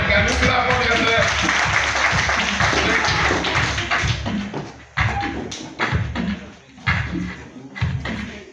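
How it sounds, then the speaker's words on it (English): A group audience clapping for themselves at a gathering, a burst of loud applause that thins into scattered claps and taps as a voice talks over it. "Can you clap for yourself?"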